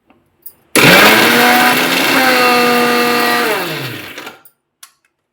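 A mixer grinder whirs loudly for a few seconds grinding coconut pieces, green chillies and salt into powder, its motor pitch sliding down as it winds to a stop, with a few soft clicks around it.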